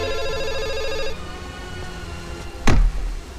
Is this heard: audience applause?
no